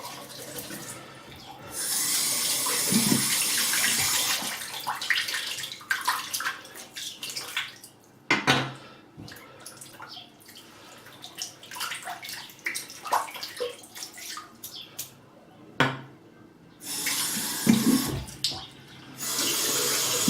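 Water gushes from a bathroom tap after a shave in bursts, turned on and off several times, with splashing and gurgling in a sink between, close and fairly loud.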